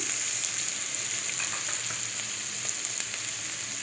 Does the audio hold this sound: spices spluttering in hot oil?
yes